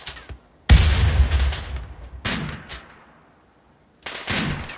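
Gunfire in the video game RimWorld: three loud bursts of rapid shots, with a quieter stretch between the second and third.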